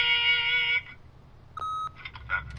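A single steady electronic answering-machine beep from The Wolf Among Us video game sounds for about a third of a second, clean and fairly loud, after a brief stretch of other tones.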